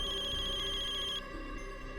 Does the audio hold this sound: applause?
no